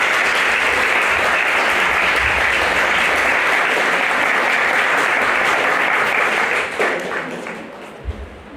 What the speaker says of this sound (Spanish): Un aplauso, chicos, para la doctora.